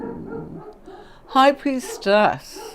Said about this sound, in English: They've just been for a walk, so I wouldn't have thought they'd be barking